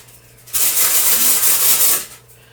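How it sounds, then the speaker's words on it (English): A hand rubs excess material off the background of a crested gecko enclosure, a steady close scraping hiss that swells in, holds for about a second and a half, then fades. "rub all the excess off like that"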